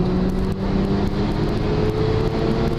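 A twin-turbo Mazda RX-7 FD is pulled hard in third gear toward 7,000 RPM on a private road, with a loud, steady engine drone and wind roar heard from inside the car.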